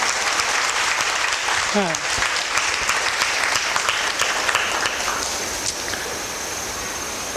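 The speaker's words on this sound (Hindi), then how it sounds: "तो ये शेयरिंग सुन के 2 ताली बजी" A satsang audience claps steadily throughout, a dense patter of many hands, while a voice speaks briefly over it.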